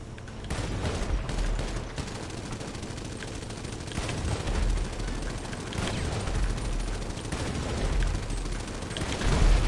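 Sustained rapid gunfire from a vehicle-mounted gunner in the video game GTA, loud rattling bursts running almost without pause and swelling toward the end.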